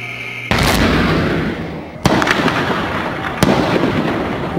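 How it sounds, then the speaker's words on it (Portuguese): Loud explosions and gunfire from an ATM bank robbery carried out at night, with a sharp initial blast followed by two further cracking bangs, each trailing off in rumbling echo. "Vários tiros são disparados. Uma das explosões é registrada."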